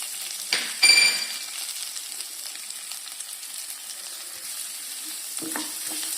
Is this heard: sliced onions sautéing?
yes